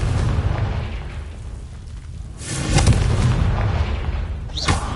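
Confringo blasting-spell explosions in the Hogwarts Legacy video game, a deep booming rumble swelling midway and again near the end, loud and close, with no talk.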